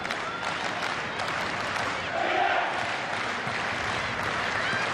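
A vocal crowd at a women's A-League football match between Wellington Phoenix and Melbourne City, steady cheering and applause filling the stadium, with commentary talk over it.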